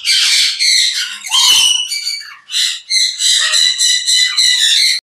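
Rare exotic birds in a breeder's aviary give loud, harsh squawks and screeches in a rapid series of bursts, close to the microphone, with short gaps between calls and no talking.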